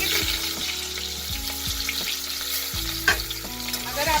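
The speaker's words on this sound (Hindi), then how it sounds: "ये देखो, ये हम कर रहे हैं कबाब को डीप फ्राई" Kebabs deep fry in hot oil, a dense continuous sizzle and crackle with intermittent low clunks and scrapes of stirring in the pan.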